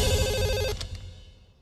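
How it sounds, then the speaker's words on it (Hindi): A telephone rings with a loud, bright electronic trill of rapid repeating tones that cuts off partway through, leaving a faint fading tail, with no talk over it. "सुनीता फोन उठा लो"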